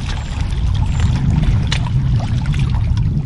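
A small boat with a six-horsepower outboard motor runs on a lake during net fishing, a loud steady low drone mixed with water splashing against the hull.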